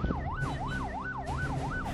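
An ambulance siren in Sampit wails steadily up and down in a regular, rapid rhythm over traffic rumble, clear and fairly close, with no voices.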